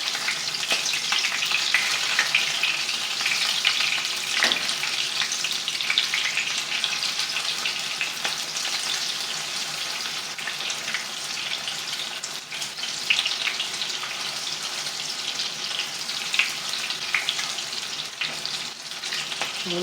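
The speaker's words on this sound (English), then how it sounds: "I'm going to turn these over in the order I put them in the pan. You can see they brown nicely just in a couple of minutes." Chicken pieces frying in a hot pan for restaurant-style chicken francese, a steady close sizzle and crackle that runs unbroken and alone, with faint clinks and stirring noises now and then.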